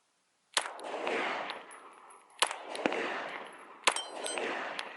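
An FN 509M pistol is fired one-handed, giving three loud, sharp shots spaced about 1.5 seconds apart. Each crack trails a brief echo, and no voices are heard.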